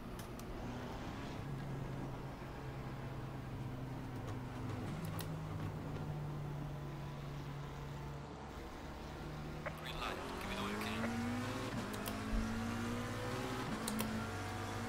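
McLaren race car engine in Assetto Corsa Competition, a steady droning hum whose pitch steps and climbs as it shifts and accelerates, heard under quiet talk.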